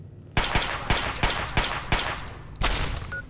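A string of loud, close gunshots fired inside a building in the video game Fallout 3, about eight sharp reports at an uneven rhythm, the last one heavier, with no talking.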